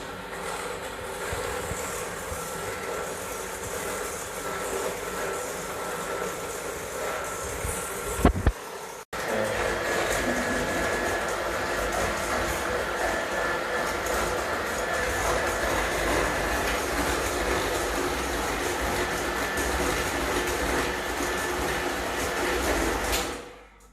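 An electric mixer whirring steadily through cake batter, a loud continuous motor drone that stops briefly, restarts, and runs on without pause until it cuts off near the end.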